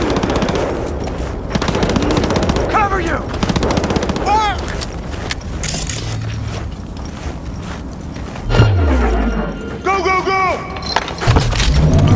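Gunfire in the video game Cyberpunk 2077, loud bursts of automatic and single shots running throughout amid game music and effects, with voices shouting over the shooting.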